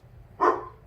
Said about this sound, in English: my dog is barking at my daughter